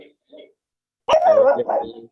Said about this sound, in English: Yes, yes, all the doggies are barking.